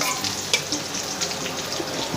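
Chopped curry leaves sizzle in hot oil with ginger and spices, a continuous crackling fry with a few sharper pops and no talking.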